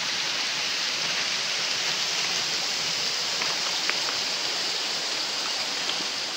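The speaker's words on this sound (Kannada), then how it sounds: "ಫುಲ್ ಮಳೆ ಸ್ಟಾರ್ಟ್ ಆಯ್ತು" Heavy rain pours during a trek near a railway tunnel on the way to Dudhsagar Falls, a dense, steady hiss of falling water with occasional faint drip taps and no voices.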